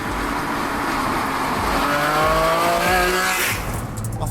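A Ferrari Enzo being driven on the road, its V12 engine roaring steadily from inside the car and climbing in pitch as it accelerates, loud and continuous with a brief gear change near the end.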